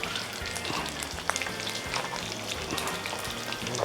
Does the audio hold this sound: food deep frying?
yes